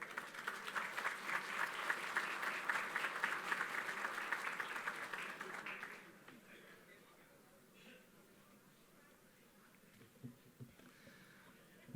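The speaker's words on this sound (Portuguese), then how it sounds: "peço uma salva de palmas para ele" An audience at the 63rd Painel Telebrasil conference applauds a speaker from the Brazilian Ministry of Economy, with dense, steady clapping for about six seconds before it stops abruptly, leaving a quiet room with faint scattered noises.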